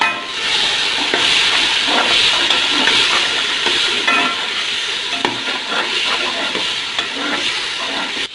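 Tomatoes with black pepper, dried coriander, cumin and garam masala being stirred in a pan for aloo pulao, a loud continuous sizzle with repeated scraping strokes, close up and without speech.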